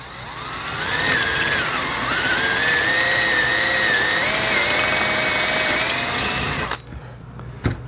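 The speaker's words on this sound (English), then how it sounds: "you're going to drill right down straight through here four times." Power drill boring through metal brackets on a P-51 pedal plane kit, a loud continuous whine rising and dipping in pitch for several seconds before cutting off, with no talk.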